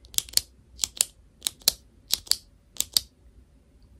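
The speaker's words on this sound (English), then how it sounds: "So tell me how many times the pen clicks." Eleven crisp clicks from a pen, close up in a quiet ASMR cranial nerve exam setting, arriving in uneven pairs and singles with short gaps between them.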